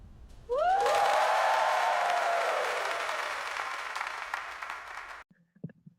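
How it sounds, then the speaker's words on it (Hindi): Applause and cheering from a large crowd fill a hall at a football inauguration and engagement ceremony, a dense roar of clapping that swells and holds steady for about five seconds, then cuts off abruptly into near silence. "हॉल तालियों से गूंज उठा।"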